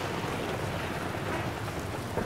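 Steady rain falls in the Skyrim world around the city of Solitude, a dense, even hiss of drops with a low rumbling wash underneath, continuous and fairly loud with no voices.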